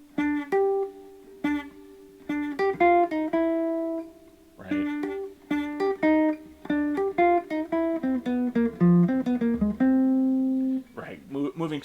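Jazz guitar playing an eighth-note line moving through chord changes, a clean run of plucked single notes with short pauses, played alone and close.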